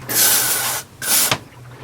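Cleaner sprayed into a boat carburetor part: two short bursts of aerosol hiss, the first lasting under a second, the second briefer and ending with a small click, close and loud.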